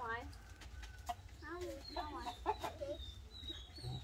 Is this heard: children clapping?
no